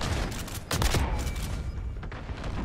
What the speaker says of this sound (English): I fucking hate that shotgun.